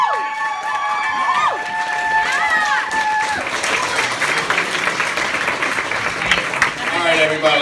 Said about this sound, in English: Let's give all our authors a round of applause.